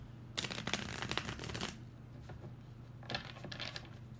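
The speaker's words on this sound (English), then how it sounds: "I just want to shuffle them like at least once." Tarot cards are shuffled close by in soft, rapid riffling flutters, one longer burst followed by a quieter second pass, with no talking.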